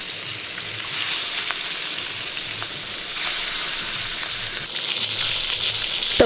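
Steady crackle and hiss of catla fish frying in oil, close and fairly loud, swelling at intervals as pieces are turned, with scattered small pops.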